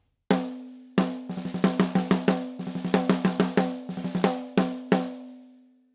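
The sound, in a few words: snare drum, mic backed off, aimed over rim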